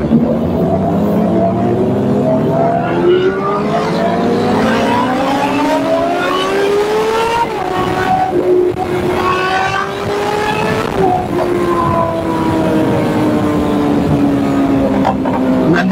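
Fast vehicle engines on an empty road, a steady loud drone with rising and falling pitch sweeps as riders accelerate and shift, continuous throughout with no talking.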